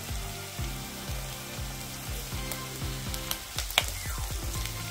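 Green chillies, garlic and curry leaves fry in oil with a light sizzle, while regular low knocks of stirring in the pan repeat throughout and quicken toward the end.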